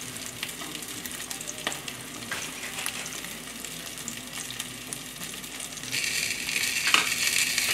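Salmon searing in sesame oil in a pan over high heat, a steady close crackling sizzle with scattered pops that grows louder and denser toward the end.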